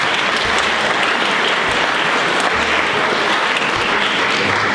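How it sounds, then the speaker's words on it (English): Steady applause from a large crowd at a 60th birthday party, dense and even clapping that holds at full volume throughout with no talking. "I'd like you to give a round of applause for the Wagners, please."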